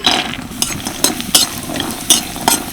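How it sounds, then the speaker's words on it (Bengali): Bori lentil dumplings frying in mustard oil in a wok, a soft sizzle underneath repeated sharp scrapes and clinks of a spatula stirring against the pan, roughly every half second, close and alone. "এবার এই বড়িগুলোকে ভেজে নেব"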